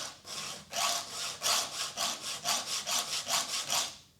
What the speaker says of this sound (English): you can hear it dragging backwards? That's damaging the cutters.